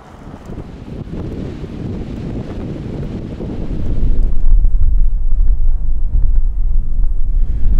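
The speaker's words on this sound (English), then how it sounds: "Lots of headwind." A strong headwind buffets a cyclist riding rural backroads in a windy area, producing loud, continuous roaring wind rumble on the microphone that grows heavier partway through.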